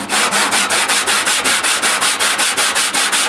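Steady back-and-forth rasping of 80-grit sandpaper on a bench, resurfacing a squeaky front brake pad, about five strokes per second, loud and close with no talking.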